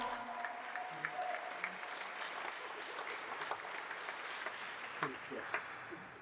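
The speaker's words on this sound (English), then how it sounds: "Round of applause" Wedding guests at the National Gallery of Canada in Ottawa applaud in a soft, continuous patter of clapping heard from a distance, with faint voices and crowd murmur mixed in.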